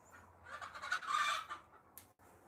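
Pet pigeons on a farmstead give a soft, close burst of throaty cooing and fluttering murmurs, rising and fading over a couple of seconds, with no talking.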